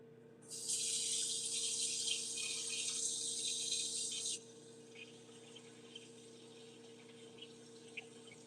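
Water runs steadily from a tap for about four seconds as a loud broadband hiss, then cuts off, leaving a quiet room with a faint steady hum and a few small clicks.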